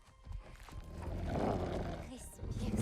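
A werewolf roars in the video game God of War Ragnarök, a long swelling growl that builds in the middle and fades, with speech and game sounds around it.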